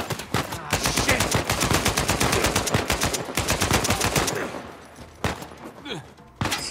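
Rapid gunfire in an Uncharted 4 firefight forms a loud, dense stream of close shots. After a few seconds it drops to a couple of isolated cracks and thuds.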